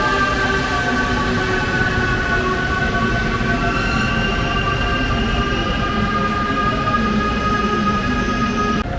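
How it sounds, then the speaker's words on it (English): A Haramain high-speed train pulls into a station platform on the line to Madinah, with a steady loud rumble and sustained high tonal whine throughout, no speech. "The train has arrived. Probably it come from Mecca."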